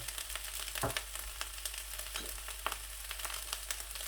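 Carrots, red chilies, garlic and cabbage sizzle steadily in hot oil while chicken fried rice is cooked. A soft, continuous crackle is broken by occasional light clicks of stirring. No one speaks.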